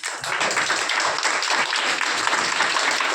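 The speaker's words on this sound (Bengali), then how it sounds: "আমার আপলাইন মৌসুমী রায়ের জন্য বড় করে একটা হাততালি দিতে হবে।" Audience applause for an upline during a direct sales training session, a dense steady clapping from many hands that holds at full level without a break.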